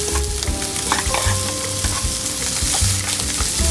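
Butter sizzles and crackles in a pan with pre-boiled meat, a busy continuous frying hiss with small pops, close and loud, no talking.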